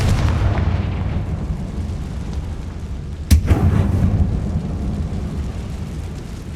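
A Confringo blasting spell goes off as a single sharp explosive burst midway through the Hogwarts Legacy game, followed by a brief crackling rumble over a constant low ambient drone inside a closed mine.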